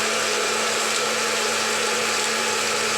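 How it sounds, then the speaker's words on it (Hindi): A blender grinds strawberry juice with ice cubes, giving a steady, loud whirring roar with a faint hum underneath that runs unbroken from start to finish, with no voices. "अब हम इसको करेंगे फिर से ग्राइंड।"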